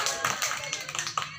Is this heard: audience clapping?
yes